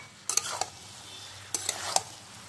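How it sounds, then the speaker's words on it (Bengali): Raw jackfruit and prawn curry being stirred and sautéed in a pan, two short bursts of spatula scrapes and clinks over a faint sizzle, close and fairly quiet. "এবার এটাকে কিছুক্ষণ ধরে আমি কষে নেব।"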